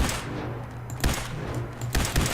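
Gunfire in Fallout 4: two sharp, loud shots about a second apart ring out over a steady noisy game background, with no speech.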